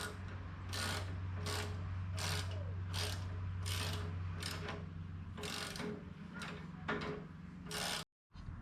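A ratchet wrench clicks in repeated bursts, roughly ten short strokes, as it turns a 12mm bolt on a Colman KT196 go-kart front spindle, close and clear over a low steady hum.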